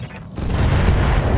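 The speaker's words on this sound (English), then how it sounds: "Firing at enemy 6." Weapons fire at an enemy mech in the RogueTech video game, a dense rumbling barrage that kicks in loudly after a brief quieter lead-in and holds steady to the end.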